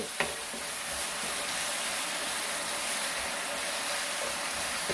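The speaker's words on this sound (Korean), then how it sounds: "어느 정도 고기가 익을 때 이제 야채를 넣고 같이 볶으면 돼요" Pork and mushroom bulgogi stir-frying in a hot pan gives a steady, even sizzle that runs close and continuous throughout, with no voices.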